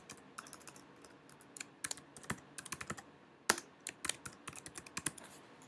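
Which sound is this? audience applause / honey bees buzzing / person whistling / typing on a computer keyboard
typing on a computer keyboard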